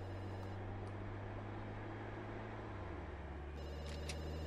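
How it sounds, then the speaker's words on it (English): Telephone ringing in The Sims 2, a repeated electronic ring heard over steady in-game background music and ambience, moderately loud throughout. "Oh, somebody's calling."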